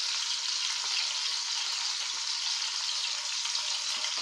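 Chopped tomatoes and ginger garlic paste go into a hot pan, giving a steady, close frying sizzle that stays even throughout with no talking.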